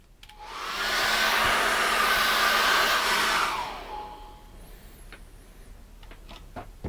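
A hair dryer blows steadily for about three seconds to dry acrylic paint, a loud close airy roar that then cuts off, followed by quiet taps and small handling sounds.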